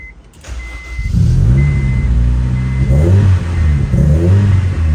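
A car engine idles, then is revved up and held at a steady running roar, the pitch rising and falling through several blips, loud and close with no talk over it, on a test run to check for misfiring after reassembly.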